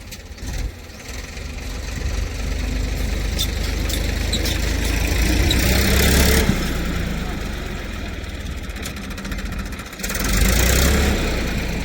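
A tractor engine running on a farm while fodder is loaded, a steady mid-pitched rumble with occasional louder surges, heard under people talking.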